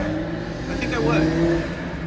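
Loud cars rev nearby, giving a droning, rising engine hum that swells in the middle of the stretch while people talk over it.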